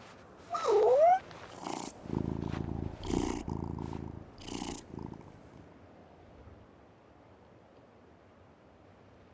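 A cat purrs in a video game set at Ellerton House, a soft rumbling purr running for several seconds after a brief meow, close and moderately loud, with no talk.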